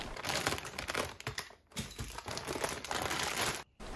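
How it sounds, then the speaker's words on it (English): Sealed plastic bag being crinkled and pulled off an air purifier's HEPA filter, a close, continuous rustle with a short pause midway and a brief drop near the end. "There is a plastic bag that you have to make sure you remove before using it."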